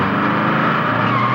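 A cartoon car brakes hard and skids to a stop, giving a loud, steady screech of tires and engine roar that holds for just over a second with no voices.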